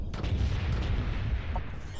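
Steady low rumbling barrage of booming artillery from the Artemis unit in the game Ashes of the Singularity: Escalation, dense and continuous for about two seconds with no clear gaps.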